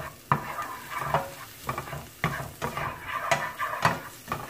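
Onion, garlic and a stalk of scallion saute in a hot pan with oil, giving a soft steady sizzle broken by repeated scraping stirs of a utensil against the pan.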